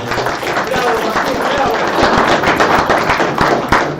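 A seated audience at a book presentation claps in a steady, fairly loud patter of many hands, close and continuous.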